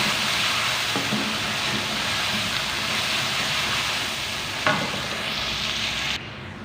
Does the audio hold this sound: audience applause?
no